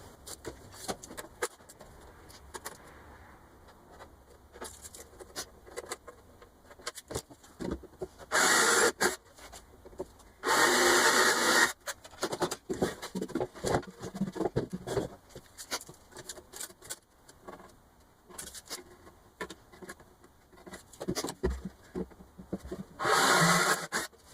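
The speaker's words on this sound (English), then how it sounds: "you can go back over with either a small file or some sandpaper just to smooth out the edges" Edges of holes in a wooden storage box are worked with a small file or sandpaper, giving intermittent scratchy rubbing strokes in short bursts separated by quiet pauses, close and fairly faint.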